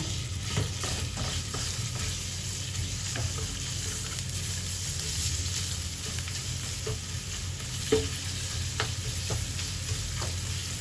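Minced pork stir-fries with ridged gourd in a pan, a constant low sizzle under repeated clinks and scrapes of a spatula, with one sharper knock partway through and no talking.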